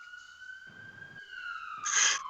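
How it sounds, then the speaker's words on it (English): Ambulance siren approaching: a steady, nearly level electronic wail whose loudness swells over a couple of seconds, heard alone without voices. "The ambulance sirens sound closer."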